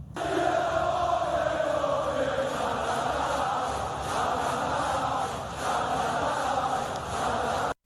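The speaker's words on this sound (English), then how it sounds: "Listen to this crowd basically shake the building until it almost collapses." A packed arena crowd at WWE Backlash in Lyon, France roars continuously and loudly, a dense wall of cheering that swells and holds for several seconds before cutting off abruptly.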